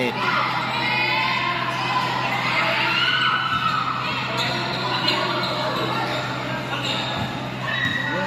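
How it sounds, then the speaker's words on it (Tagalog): Busy indoor court with children shouting and a crowd murmuring, balls bouncing now and then amid the echoing din. "Nandito ako sa gym. Naglalaro basketball ng mga bata eh."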